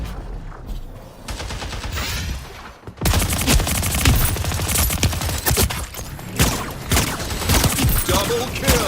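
Loud, rapid gunfire from the kitchen gun in the video game Splitgate 2, dense overlapping bursts after a brief lull near the start.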